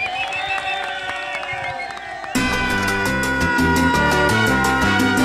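Football fans of Atlético Nacional roar and cheer as a crowd, with whistles and shouts, before loud music with a steady beat takes over and plays on top of the crowd noise.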